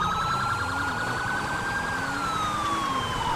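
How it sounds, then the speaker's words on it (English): Police car siren in the LSPDFR mod for GTA V, a steady wailing tone rising and falling slowly and continuously, loud and close over low engine and road rumble. "This guy hasn't changed his siren tone the whole fucking time."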